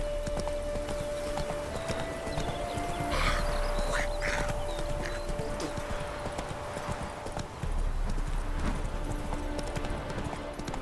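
Roach, the horse in The Witcher 3: Wild Hunt, trots with a steady, continuous clip-clop of hooves on the ground, joined by occasional snorts and other game sounds.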